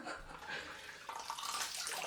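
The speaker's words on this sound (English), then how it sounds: "I've had to run the water until it started to be clean" Water runs steadily from a tap into a basin during a wet shave, a continuous faint splashing hiss with no talk over it.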